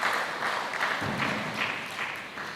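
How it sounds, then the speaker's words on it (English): An audience at a local municipality State of the Municipality address gives a faint, sustained round of applause, soft and distant throughout. "let us appreciate and clap for Sanral in assisting us"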